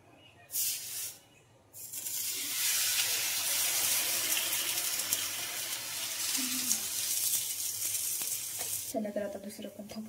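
Thalipeeth dough hits an oiled hot griddle and sizzles loudly and steadily for several seconds, starting after a brief rustle and ending with faint voices and clinks as the hiss continues.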